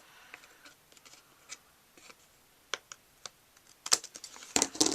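Small sharp clicks and snips of a cutting tool trimming an edge off paper, scattered and faint at first, then a quicker, louder cluster of cuts near the end.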